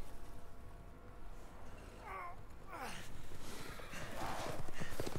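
Horses clip-clop in the Resident Evil Village video game, with steady hoof beats growing louder toward the end under excited talk.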